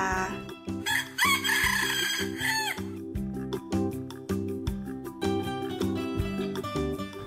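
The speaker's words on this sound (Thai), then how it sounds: "ไก่ป่า" A red junglefowl rooster crows once, a loud drawn-out cock-a-doodle-doo lasting about two seconds, laid over a cheerful music track that carries on after the call ends.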